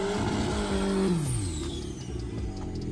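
A Chevrolet Omega car roars loudly close by while drifting, its engine note sliding downward in pitch partway through before settling into a steady rumble.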